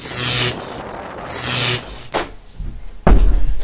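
Door being shut: two broad rushing swells give way to a sharp knock, then a heavy, loud slam with low thud near the end, close and alone without talk.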